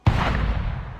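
A single heavy gunshot or cannon-like blast in Assassin's Creed IV Black Flag, near a port with ships, hitting sharply and then rumbling with a long booming decay, no talk over it.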